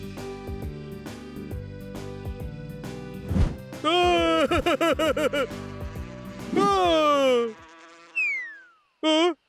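Cartoon bees buzz angrily in a comedy scene of a bear and bees, rising and falling tonal buzzes in swooping bursts, loud and close, mixed with other cartoon sound effects and music.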